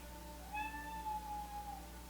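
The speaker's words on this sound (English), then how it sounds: "My cat thinks you're beautiful too, and apparently she wants in." A cat meows at a door, wanting to come in, a soft, drawn-out cry with a second short call, heard faintly from nearby against a quiet indoor hum.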